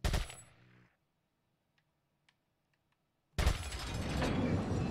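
A loud gunshot cracks out in Resident Evil 4, then near silence with faint clicks before a second burst of gunfire with shattering debris.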